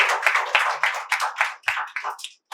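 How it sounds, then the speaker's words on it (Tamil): An audience at a stage talk claps in a series of distinct, fairly close bursts that come in an uneven rhythm before stopping briefly. "நல்ல கைத்தட்டல் தாங்க"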